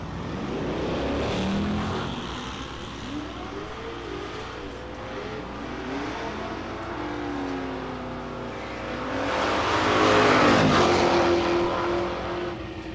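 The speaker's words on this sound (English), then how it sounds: "Dodge Dart versus Mach 1 Mustang." A Dodge Dart and a Mach 1 Mustang drag race at a strip, their engines roaring at moderate distance and swelling louder toward the end.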